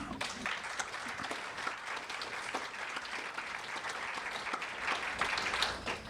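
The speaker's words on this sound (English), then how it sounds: "So I think they deserve a certain round of applause for that." An audience applauds at a literary prize shortlist announcement, a fairly quiet, continuous patter of many hands clapping that swells slightly toward the end.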